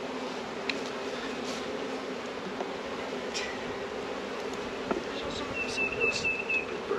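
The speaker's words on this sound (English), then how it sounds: "put all the bees in the bottom box" Honey bees drone steadily around hive boxes at an out yard in a vineyard, a continuous close buzz with occasional louder passes and a faint bird chirp.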